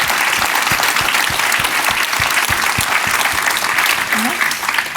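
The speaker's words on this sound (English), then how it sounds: "let's give one last round of applause for our panelists today" A conference audience gives the panelists a final round of applause, with sustained, dense clapping from many people throughout and a brief voice near the end.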